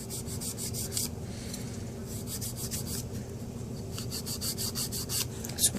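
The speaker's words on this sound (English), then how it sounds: "So I'm just going to give it a quick file, shape it up a little bit." Gel nails being filed with a 180 grit nail file, quick repeated rasping strokes in a steady rhythm, close up and fairly soft, with no voices.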